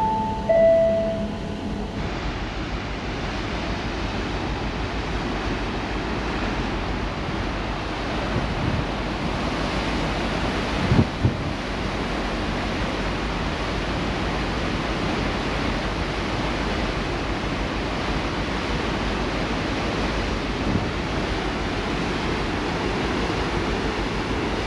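Churning ocean surf on Vancouver Island, a steady broadband roar of waves surging against the shore with wind buffeting the microphone, continuous and loud throughout with no talk.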